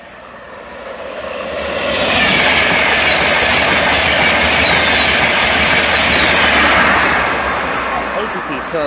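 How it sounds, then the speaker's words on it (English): LNER Leeds to London King's Cross train passing through Hitchin station on the East Coast Main Line, a loud close rush and roar that swells in, holds with rattling wheels and fades at the end. "now passing through is the Leeds service, Leeds to London"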